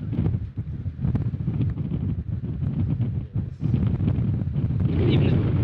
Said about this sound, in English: Windy as hell though.